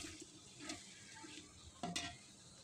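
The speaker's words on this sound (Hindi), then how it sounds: "तकरीबन 2 मिनट के लिए इसको भुनेंगे, ताकि जो अदरक लहसुन है वो अच्छे से चिकन में जज़्ब हो जाए" Chicken coated in ginger-garlic paste fries in a pot, soft sizzling under several scraping stirs of a spoon against the metal, with a sharper clatter near the end.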